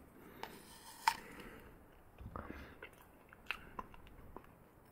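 Someone chewing and biting into a soft Southern Butter Pecan treat, with quiet, close mouth sounds and a few small crunchy bites spread irregularly across a faint, otherwise still background.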